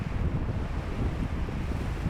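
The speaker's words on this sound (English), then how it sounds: "It was really, really windy out there." Strong wind on a stormy beach at Southampton, looking toward Chantry Island, roars steadily into the microphone as a loud, continuous rumble with surf noise mixed in and no voices.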